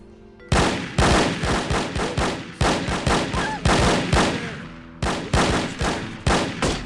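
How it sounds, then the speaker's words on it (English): Enemy gunfire in No One Lives Forever rattles out in quick bursts of sharp, close shots, a dozen or more cracks with brief pauses between volleys and faint voices underneath. "Okay, now we get shot at by some people."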